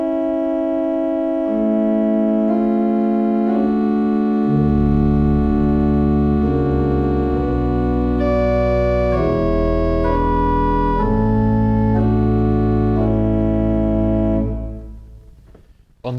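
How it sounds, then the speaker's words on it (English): A pipe organ plays on the great open diapason 8 with pedal 16 and 8-foot stops and the great-to-pedal coupler. Round, mellow sustained chords shift slowly, deep pedal notes enter a few seconds in, and the sound releases into a fading tail. "This piece suggests the great open diapason 8,"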